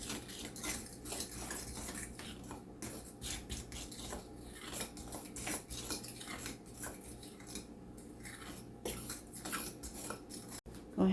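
A fork whisks boxed cake mix in a bowl, making rapid rhythmic scraping and clinking strokes up close, with no one speaking.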